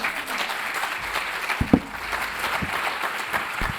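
Audience applauding after testimonies, a steady moderate wash of clapping with a few louder close claps and knocks, no speech.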